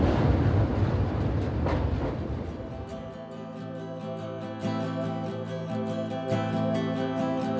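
From inside a passenger train crossing the Kolaghat bridge over the Rupnarayan river, a heavy rumble settles into a steady droning hum punctuated by rhythmic wheel clicks.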